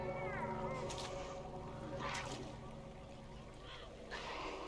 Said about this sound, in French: Ok, donc là-bas, il y a un méchant chat.